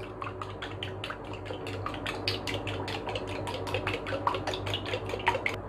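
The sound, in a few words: mixing the bacteria culture mixture in a container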